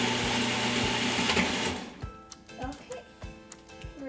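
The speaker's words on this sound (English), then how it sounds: "I have it here in the blender now, and let me just start it, and we're just gonna make it very smooth" A kitchen blender whirs loudly as it purees simmered butter chicken curry sauce, running for about two seconds before stopping, followed by scattered clicks and handling sounds.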